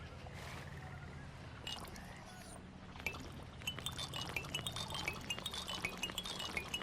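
Water being scooped into glasses in RuneScape Dragonwilds, a run of small glassy clinks and soft pours over a low ambient bed, the clinks growing quicker and denser in the second half, no voices.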